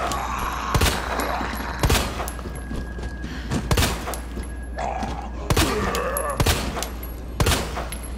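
Gunfire in the Resident Evil 2 video game, a string of loud, sharp shots spaced roughly a second apart, each with a booming tail, over a low background hum.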